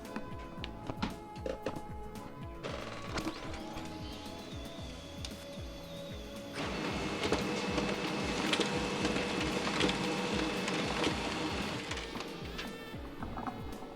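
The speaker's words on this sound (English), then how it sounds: "I'm going to send this print job." A 1990s office printer runs a print job sent from an OS/2 PC, its mechanism rattling in rapid repetitive strokes that grow louder and busier midway, steady and close with no talk.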